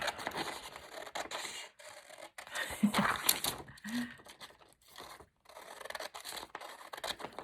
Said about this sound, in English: I'm just gonna chop the edge off here.